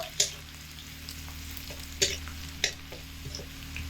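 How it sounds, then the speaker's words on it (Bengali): Garlic frying in a pan with whole fennel seeds, a soft steady sizzle broken by a few sharp clinks and scrapes of a utensil against the pan, with a low hum underneath. "রসুন দিয়ে একটু লাল লাল করে নেব রসুনগুলো"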